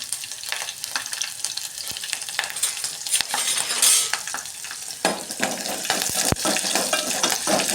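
Chillies and spices stirred in hot oil for a tempering give a continuous close sizzle and crackle, with a spoon scraping and clicking against the pan throughout.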